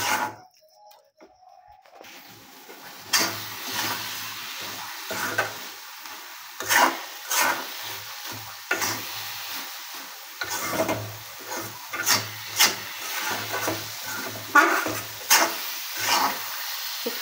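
Carrot halwa with milk powder being stirred in a pan, a spoon scraping and thumping in an irregular rhythm over a soft steady sizzle, close and fairly loud.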